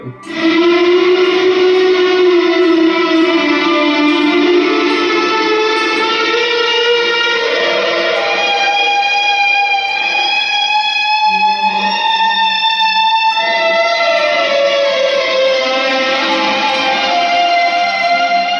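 An electric guitar through a Walrus Audio Slotva reverb pedal with added fuzz, drenched in reverb with a fuzzy, distorted edge, sustained notes ringing and blending into a washy, echoing tone.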